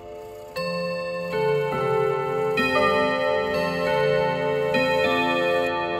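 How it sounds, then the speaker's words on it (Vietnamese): Classic Odo 54/10 chiming clock striking a melody of ringing rod tones, some notes falling in close pairs, sustained and overlapping with a shimmering resonance and no talking. "Đấy, nó rơi hai nốt gần nhau rất là hay luôn."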